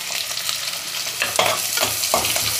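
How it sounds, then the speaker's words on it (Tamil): Chopped onion and green chilli hit hot oil in a pan, giving a steady broad sizzle with a few sharper crackling bursts and spoon scrapes, close and continuous, with no voices. "இப்போ நம்ம வந்து வெங்காயம் பச்சை மிளகாவை சேர்த்துக்கலாம்"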